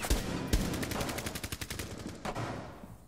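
Automatic rifle fire in a Rainbow Six beta match, a rapid burst of evenly spaced gunshots following two sharp single shots, fairly quiet and distant with no talk over it.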